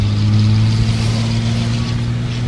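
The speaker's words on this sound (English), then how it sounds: "it sounds really nice too once the turbo spools up nice" 2003 Dodge Ram with a 5.9 Cummins inline-six turbo diesel revving, a steady, loud, low droning engine note close by, no talking.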